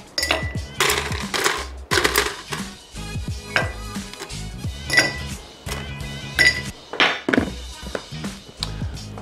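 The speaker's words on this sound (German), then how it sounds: "Dazu benötigen wir auf jeden Fall mal ein paar Eiswürfel," Ice cubes clatter and clink into a highball glass while a Tequila Sunrise is built, a busy run of sharp close knocks and rattles with no talk.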